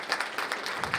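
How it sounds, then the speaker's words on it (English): A brief stretch of steady audience applause at a student leadership awards ceremony, dense clapping from a room of people, moderately close. "Give these folks a round of applause."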